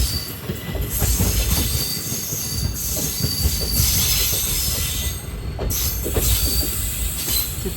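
The Nagaland Express rolls into a station, loud rumbling wagons with repeated high wheel squeals rising and falling over the steady clatter of the rails.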